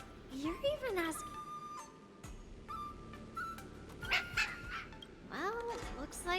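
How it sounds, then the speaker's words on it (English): Small wolf dog yipping and barking in the video game Honkai Star Rail, several short pitched yelps and whimpers mixed with game music and chimes, with a voice talking over it. "I wanted to talk to the wolf, the little doggy."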